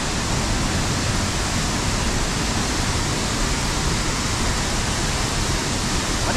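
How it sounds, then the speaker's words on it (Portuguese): Roaring waterfall at Rio Celeste in Costa Rica, a dense, steady broadband rush of falling water, loud and unbroken throughout. "O som vai ficando mais alto. Você vai sentindo essa vibração da água,"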